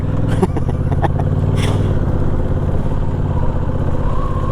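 A 2021 Honda Rebel 1100 DCT motorcycle engine running steadily up close after a hard start, a loud continuous rumble with a few clattering knocks near the beginning.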